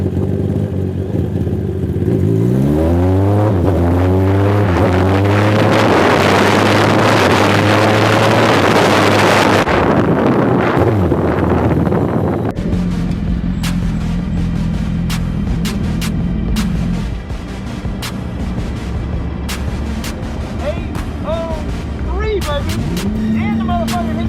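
A 2020 Kawasaki ZX10R motorcycle engine revs hard and loud, climbing to the rev limiter, then falls back and rises again in shorter bursts against steady wind noise.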